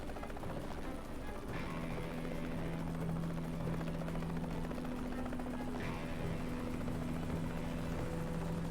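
A helicopter in the Mercenaries 2: World in Flames video game, its rotor drone steady and continuous throughout, with a couple of short mechanical bursts cutting in.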